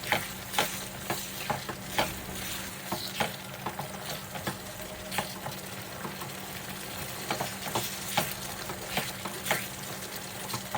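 Chicken curry spices with cardamom, cinnamon and bay leaf being stir-fried in a pan: a steady sizzle and fry with repeated scraping, stirring strokes at an uneven rhythm, close and moderately loud, no talking.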